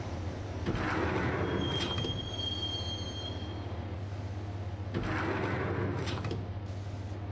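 A subway train ride in the Max Payne video game: a steady low rumble of rolling carriages, with a long high wheel squeal and two louder clattering surges, fairly close and with no talk.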